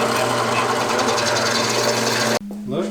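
A drill bores a hole in a GY6 scooter exhaust pipe that may be stainless, giving a loud, harsh, buzzing whir for over two seconds before it stops abruptly. A brief voice follows.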